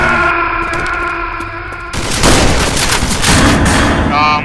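Gunfire in the video game Left 4 Dead 2, a short run of loud rapid shots with a tonal game sound before it, close and dense.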